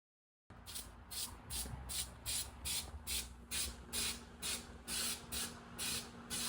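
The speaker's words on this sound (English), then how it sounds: "Put some spray glue around the opening." Spray glue hisses from an aerosol can in a steady series of about a dozen short, even bursts, close and fairly quiet, with no talking.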